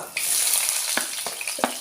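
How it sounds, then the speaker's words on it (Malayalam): Mustard seeds crackle and splutter in hot oil in a pan while a Kerala tuna (choora) mezhukkupuratti is being cooked, giving a close, steady sizzle broken by sharp pops. "അപ്പോൾ കടുക് പൊട്ടി തുടങ്ങി ഇതിലേക്ക് ഒരു സവോള"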